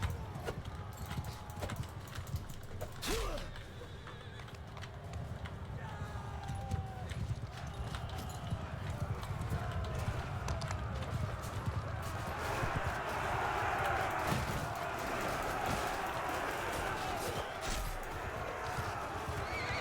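Cavalry horses charge during a castle siege battle in Mount & Blade 2 Bannerlord: dense clattering hoofbeats and repeated whinnies over continuous battle noise, swelling louder in the second half.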